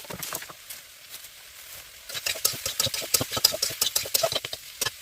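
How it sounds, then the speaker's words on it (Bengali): Vegetable khichdi being stirred in a pot over a clay pipe stove, with rapid scraping and clattering strokes that start soft and become louder and denser halfway through, close by and without speech. "দেখো বন্ধুরা ভালো করে নাড়াচড়া করছি"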